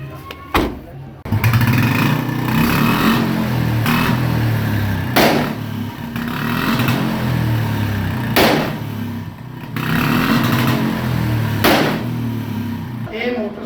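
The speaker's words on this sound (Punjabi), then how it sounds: "ਮੋਟਰਸਾਈਕਲ ਹੈ ਜਿਹੜਾ ਪਟਾਕੇ ਮਾਰਦਾ ਸੀ" A Bullet motorcycle, known for firecracker-like backfiring, runs loud and near with a low engine rumble and revs, punctuated by sharp pops every second or two, with voices talking alongside.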